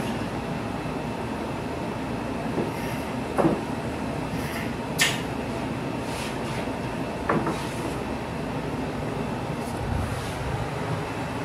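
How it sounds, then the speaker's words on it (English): Top cover of a homemade rail gun with carbide flat-stock rails being lifted off, giving a few light, separate clacks and knocks over a steady background hum. "I'll pull the top here and show you the rails."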